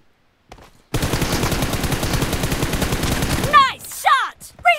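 Rapid automatic gunfire from a shooting video game rattles loudly and steadily for nearly three seconds, then breaks off as a voice talks over sparser game sounds.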